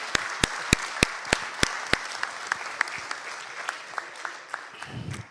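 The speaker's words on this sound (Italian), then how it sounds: "E facciamo un applauso così iniziamo" A crowd at an evening meeting with a regional election candidate in San Donà, Veneto, applauds. Sharp, evenly spaced claps ring out over a softer bed of clapping, then the sound grows looser and fades.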